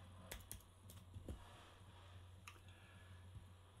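A few sparse, faint keystrokes on a computer keyboard tap irregularly over a low steady hum, with no talking.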